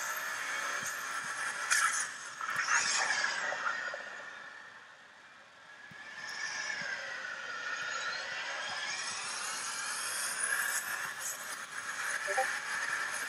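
A turbocharged car in a modded Unturned video game drives at high speed, its engine and turbo whine rising and falling in pitch in long sweeps, loud and steady with a brief dip midway.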